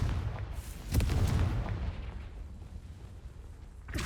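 A Confringo fire spell blast from Hogwarts Legacy, a sharp booming burst near the one-second mark followed by a rumbling fiery decay and a second crackling hit right at the end.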